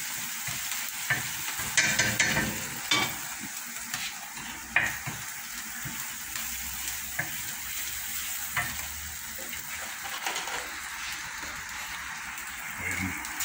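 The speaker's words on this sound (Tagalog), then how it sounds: "Una po butter, tapos bawang." Garlic fries and sizzles in butter in a pan, a steady hiss that keeps going throughout, broken by occasional stirring and clinks of a utensil.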